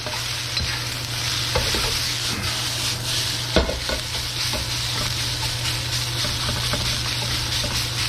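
Vegetable lo mein noodles and cabbage are stir-fried in a hot wok with oil, giving a steady loud sizzle with scraping stirs and a sharp clack partway through.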